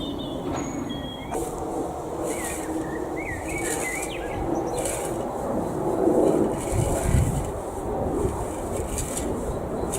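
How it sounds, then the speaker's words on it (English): Scattered seagull calls ring out over a rushing outdoor background at high tide, with a few sharp cries standing out now and then. "Tide's high today, I can hear the seagulls."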